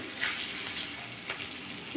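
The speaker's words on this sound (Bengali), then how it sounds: "আর একটু ভাজা করে নেবো পেঁয়াজ দিয়ে রসুন দিয়ে আদা দিয়ে।" Onion, garlic and ginger fry in a pan as the base for an okra curry, giving a steady, moderately faint sizzling hiss with a few light stirring scrapes and no talking.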